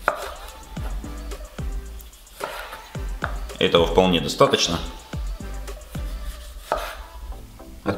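A knife chops small tomatoes on a board in a quick run of sharp taps, while a nearby voice talks briefly in Russian between the cuts.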